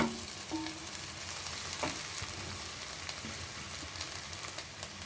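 Onions, masala and boiled potatoes sauté in a pan for kachori filling, a steady close sizzle with occasional scrapes and clinks of a spoon stirring, no voices.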